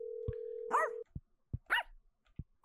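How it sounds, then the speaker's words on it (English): Dog barking in a video game, a few sharp, close barks spaced apart with short pauses, following a steady electronic tone. "The dog won't stay off the couch."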